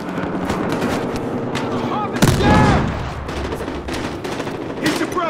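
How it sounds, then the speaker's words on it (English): An RPK-74 light machine gun in Battlefield Hardline fires in loud, sustained close bursts, with a heavy boom near the middle and other shots and voices blending into the noisy firefight. "And I shoot!"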